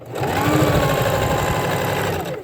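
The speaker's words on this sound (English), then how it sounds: "we'll sew this way all the way around till we get to the spot where we're going to stop" Sewing machine stitching around a fabric bowl cozy, a loud, close, continuous motor whir with rapid needle chatter running steadily from start to finish.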